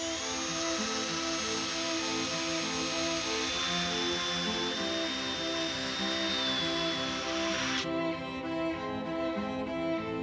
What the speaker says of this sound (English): if I use my hand drill with a sanding drum drill bit